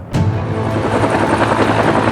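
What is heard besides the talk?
helicopter flying over pipeline right-of-way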